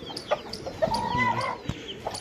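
Hens kept by a chicken and pigeon keeper cluck in short, close, repeated calls against a steady farmyard background, with no talk.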